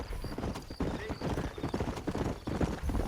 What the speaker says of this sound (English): This is a fast horse.